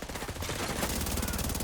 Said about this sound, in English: I totally forgot about the turret there